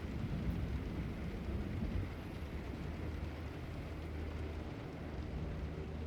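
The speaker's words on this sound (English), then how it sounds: "back to just rain then." Steady rain falls in a dense, even hiss with low rumbling underneath, moderately quiet and unbroken throughout, with no voices.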